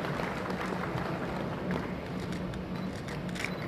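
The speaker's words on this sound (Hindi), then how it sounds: "आइए हम सब मिलकर तालियों के साथ उनका स्वागत करें।" Dense applause from a seated audience welcoming Sanjay Kulshreshtha at an official-language conference in New Delhi, a continuous crackle of many hands clapping, steady and fairly distant, with no voice over it.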